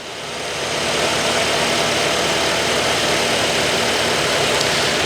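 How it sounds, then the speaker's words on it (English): A car engine catches and settles into a steady idle during a cranking test, running evenly and close by for several seconds with no talk. "We're going to walk around and start the motor real quick."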